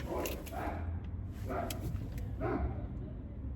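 A person mimics a dog's bark, heard from inside a car: a few short, gruff bow-wow bursts spaced about a second apart over low background rumble.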